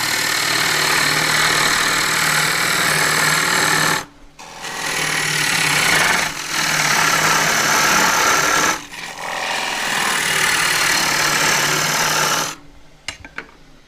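Heavy gouge cutting a green casuarina bowl on a wood lathe, a loud continuous rough tearing hum broken by short pauses as the tool lifts off, then resumes.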